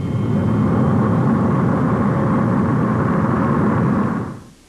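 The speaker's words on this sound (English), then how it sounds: "But jet noise is a new, unnerving order of sound." A loud, sustained jet roar at a New York airport in the early 1960s fills the clip with broad, heavy noise, then drops away sharply in the final moment. No voices are heard.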